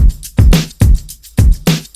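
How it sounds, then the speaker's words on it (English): A punchy drum loop made in FL Studio for modern pop repeats with thudding kicks, snappy snare hits and bright hissing hats and shaker in a quick, steady groove. "And all together, the drum loop sounds like this."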